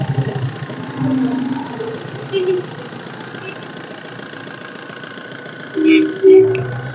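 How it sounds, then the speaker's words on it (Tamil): A diesel Maruti Suzuki Swift engine idles with a steady low rumble, close by, while a few faint brief noises rise and fall over it. "இன்ஜின் சவுண்டை கேளுங்க"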